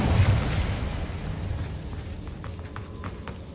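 An Incendio fire spell from Hogwarts Legacy roars out as a loud, rushing burst of flame that starts strong and slowly fades into a crackling, fizzing tail.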